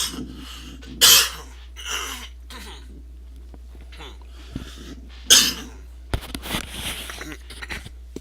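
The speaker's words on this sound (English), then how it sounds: "it's got a cough." A few sharp coughs and throat clearing, close by, with quiet pauses between bursts.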